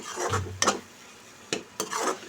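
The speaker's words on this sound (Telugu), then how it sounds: "ఇందాక మిక్సీకి వేసిన మసాలా అంతా వేసి బాగా ఫ్రై చేస్తాను" Ground masala paste frying in a pan as a spoon stirs it, making a quiet sizzle broken by several distinct scraping strokes against the pan, with no talking.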